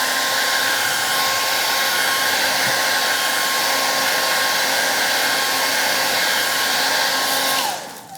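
Steady, loud whirr of a hair dryer blowing over fresh paint on a round wooden door hanger, running continuously and cutting off near the end, with no talking.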